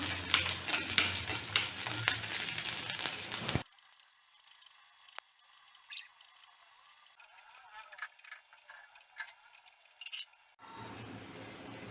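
Two bulbs of garlic frying in oil until reddened for curry leaf chutney powder, a dense close sizzle with stirring scrapes that cuts off abruptly, leaving faint clinks and quiet kitchen sounds before the sizzle returns.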